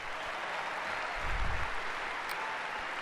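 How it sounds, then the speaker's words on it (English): Applause from the arena crowd at a WWE Hall of Fame ceremony rolls on as a soft, distant, even wash, with a brief low rumble swelling near the middle. "So give yourselves a round of applause."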